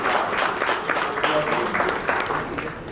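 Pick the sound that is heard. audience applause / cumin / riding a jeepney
audience applause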